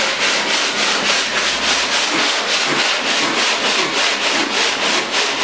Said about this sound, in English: then I will hit the bottom of the boat in the round spots with my fairing board, which is just 120 grit sandpaper glued to the touch of the board